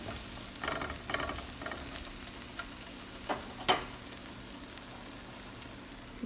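Green chili and garlic fry in melted butter in a pan while an omelette is made, giving a steady broadband sizzle with a few soft stirring scrapes and one brief sharper clink near the middle, with no talking.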